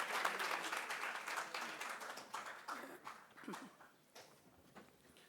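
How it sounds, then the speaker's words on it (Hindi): An audience at an Indian seminar hall event applauds a woman who has just spoken. The clapping is quiet and distant, thick at first and then thinning to scattered claps as it fades. "ज़ोरदार मैडम के लिए ताली बजाइए आप लोग।"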